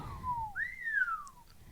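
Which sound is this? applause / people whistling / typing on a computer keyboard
people whistling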